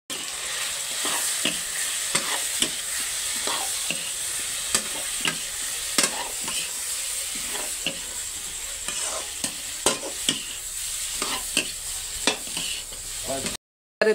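Chicken with chicken masala and garam masala sizzles steadily in a pan while a utensil stirs it, producing repeated scraping strokes over a continuous close fry with no talking.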